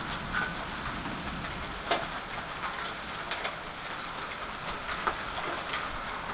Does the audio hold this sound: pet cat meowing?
no